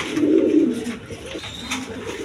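Pigeons coo softly nearby, a low throaty warble rising and fading, with no talking.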